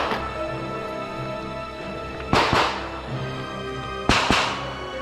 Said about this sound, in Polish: Słyszycie te strzały?